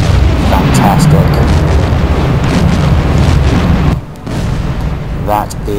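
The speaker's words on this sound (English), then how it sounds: "There's the impact. Big explosion there." A torpedo strikes a large modern tanker in Silent Hunter 4, setting off a loud, sustained booming explosion with a heavy rumbling roar, a brief drop partway through, then continued rumble.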